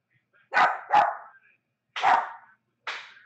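A dog barks four times in short, loud separate bursts, with brief silences between the barks and no talk over them.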